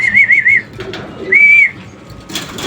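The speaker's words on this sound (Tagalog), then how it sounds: "Ito pre, mga ibon natin" Racing pigeons in a loft give two bursts of warbling, whistled cooing separated by a short pause, close and fairly loud over a low rustling background.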